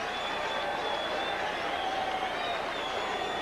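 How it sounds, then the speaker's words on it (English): A baseball crowd of about 18,000 at Candlestick Park, at a Braves at Giants game, gives steady, distant applause. It makes an even wash of clapping and crowd noise throughout, with no voices on top. "Now Hammaker will get a nice hand."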